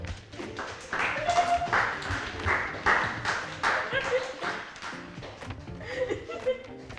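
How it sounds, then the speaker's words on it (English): An audience at a senior send-off awards event claps and cheers, a steady burst of applause with some laughter and voices mixed in, lasting several seconds before fading. "Ladies and gentlemen, give it up for Maddie, aka the one and only Breadinator."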